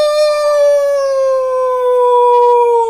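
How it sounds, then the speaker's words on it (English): A single wolf howl rings out loud and close, one long sustained rising-then-slowly-falling wail that holds steady for about three seconds with no talk over it. "it was a wolf howl"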